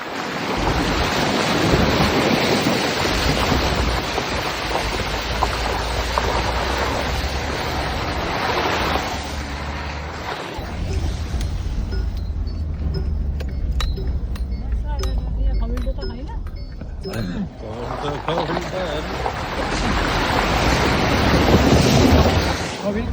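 River water sloshes and rushes steadily around a vehicle driving through a river, a loud continuous wash with wind buffeting and occasional clinks, briefly easing midway before surging again.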